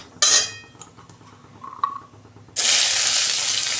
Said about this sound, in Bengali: ওই তেলের মধ্যে আমি একটা তেজপাতা, গোটা জিরে, দুটো পেঁয়াজ আমি কুচে রেখেছিলাম দিয়ে দিচ্ছি